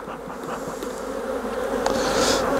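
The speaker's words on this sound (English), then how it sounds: "just use a little bit of the smoke just to ease the bees out of the way" Honey bees from an open hive colony hum in a steady, dense buzz at close range while smoke is applied, with a sharper rising whine toward the end; no voices.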